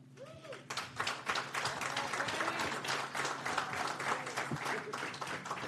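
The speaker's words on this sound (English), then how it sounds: "You have a cheering section." A council meeting audience breaks into sustained applause and cheering, a dense clatter of many hands that starts suddenly after a brief quiet moment and keeps going steadily, moderately near.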